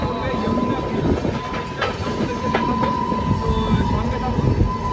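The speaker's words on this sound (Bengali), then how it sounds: "2 মিনিটের মধ্যে একদম মির্জাপুর স্টেশন থেকে ট্রেন ছেড়ে দিয়েছে" A passenger train pulling out of Mirzapur station on a Kolkata to Bikaner run, a steady loud rumble of rolling wagons heard from on board, with faint voices in the background.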